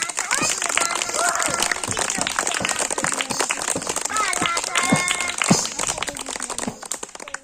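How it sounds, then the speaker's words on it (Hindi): Children and adults clapping at an Independence Day school gathering after a patriotic song, uneven close hand claps with rustling and voices mixed in, fading toward the end. "ताली बजाओ ताली"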